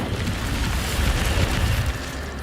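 The Incendio fire spell being cast in Hogwarts Legacy, a loud sustained whooshing roar of flame with a deep rumbling body lasting a couple of seconds before tapering slightly.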